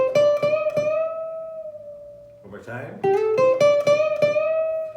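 Ukulele plucked up close, playing a single-note melodic line with string bends that slide the pitch up. Each note rings clearly, with a short pause midway, and a voice talks briefly over the playing.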